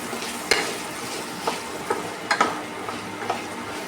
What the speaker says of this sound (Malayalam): ഇനി ഇതിലേക്ക് ഈ സവാളയും ചെറിയുള്ളിയും അത് കൂടി ഇട്ട് കൊടുക്കുകയാണ്.